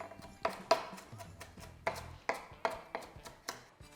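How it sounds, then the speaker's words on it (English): A knife roughly chops fresh cilantro on a cutting board for shrimp tacos, giving about ten quick, close, uneven thuds and taps in an irregular rhythm. "And I'm just gonna give this a rough chop here."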